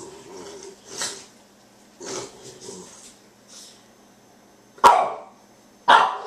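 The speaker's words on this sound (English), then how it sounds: "My dogs are going crazy." Dogs barking indoors, several short barks and snorting huffs spread across the clip, ending in two sharp, loud barks close by. Nobody talks.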